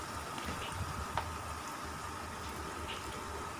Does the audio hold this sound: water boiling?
yes